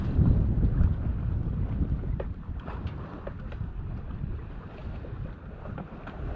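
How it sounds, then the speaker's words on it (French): Wind blowing across a microphone while sailing a boat on the Mediterranean, a steady loud rushing roar with gusty low rumble and faint splashing, with no voices. "par chance le vent a donné il y a quelques minutes, donc j'en profite au maximum"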